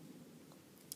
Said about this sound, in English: if you can push the bits together, you can sometimes hear them click